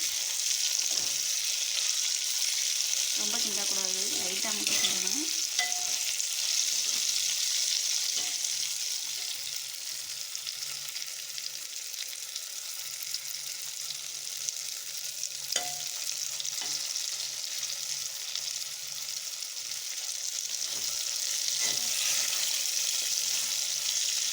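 Bitter gourd kuzhambu fries in a clay pot with a constant, even sizzle while it is lightly stirred. A few soft scrapes and knocks come through over the long, steady hiss, and no one speaks.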